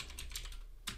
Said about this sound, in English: So I'm going to type in vi again,